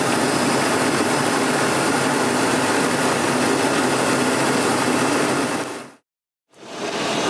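Outside a GMC Sierra HD pickup with its stock air intake, idling at about 750 RPM on a cold day: a steady, loud engine drone with a hissy wash, cut by a brief silent break near the end.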